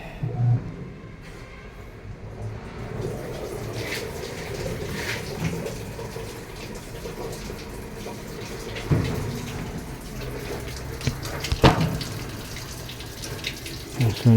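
Water runs steadily into a Whirlpool automatic washing machine during repair testing, a continuous splashing flow with occasional louder drips and knocks near the end, heard close up without talking.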